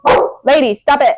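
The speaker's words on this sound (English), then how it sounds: "That's my dog." Pet dog named Lady barking indoors, a few loud, close barks in quick succession while someone speaks over them.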